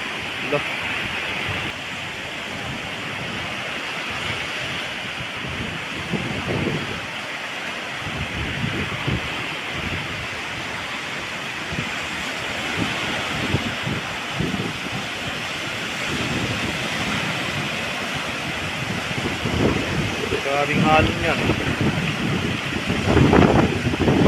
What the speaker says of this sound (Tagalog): Pero matindi talaga, grabe lakas ng alon.